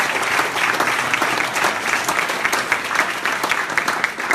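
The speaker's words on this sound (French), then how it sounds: "Mérite une bonne main d'applaudissements" Sustained applause fills a closing evening event of a fundraising campaign, a dense wash of many hands clapping at steady volume for several seconds without talk.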